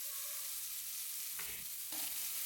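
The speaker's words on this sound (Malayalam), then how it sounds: "ഇതെല്ലാം ചേർത്തിട്ട് നന്നായിട്ടൊന്ന് വഴറ്റിയെടുക്കണം." Ginger, onion and carrot sautéing in a pan for uppumavu, a steady soft sizzle with a couple of brief stirring scrapes, close and alone with no voices.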